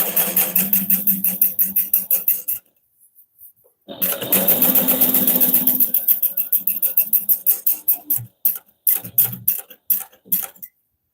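A sewing machine top stitches a seam on a hobo bag in quick rhythmic bursts of needle clatter, pausing briefly between runs and ending in short stop-start stitches, close and alone.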